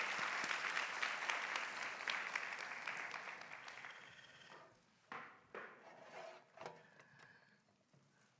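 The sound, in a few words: church congregation applause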